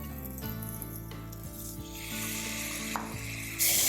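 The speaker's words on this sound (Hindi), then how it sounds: "फ्लेम हम हाई पे करेंगे और इसके अंदर डाल देंगे सब्जियां।" Carrot, chopped cabbage and peas drop into a hot pan over high flame and sizzle loudly and continuously, with the sizzle surging louder toward the end.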